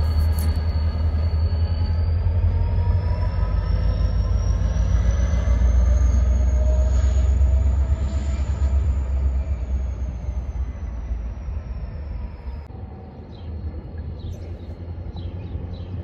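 A RENFE freight train loaded with cereal on the Spanish line between Salamanca and Valladolid rolls past, a loud continuous low rumble of wagons with a long high-pitched squeal of wheels or brakes, fading slightly toward the end.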